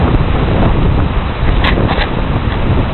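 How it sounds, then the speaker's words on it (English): Strong wind during Hurricane Ike roars in a loud, continuous broadband rush with gusty buffeting on the microphone. "Rupert, how windy is it?"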